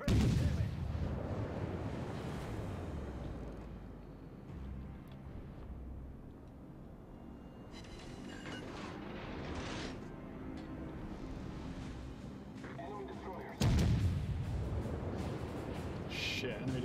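Battleship main guns fire in World of Warships as a few heavy booming blasts, one loud sharp salvo late on, with rumbling naval ambience and someone talking between shots.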